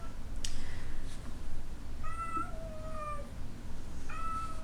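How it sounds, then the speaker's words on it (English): Two house cats fighting indoors, giving several short, faint meows and yowls spread over a few seconds against steady background noise. "My cats are fighting."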